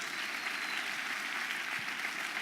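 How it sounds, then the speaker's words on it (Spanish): Moderate, even applause from a church congregation during a Spanish-language sermon, a steady wash of clapping heard from some distance with no speech over it. "Y si va a aplaudir, aplauda sin miedo."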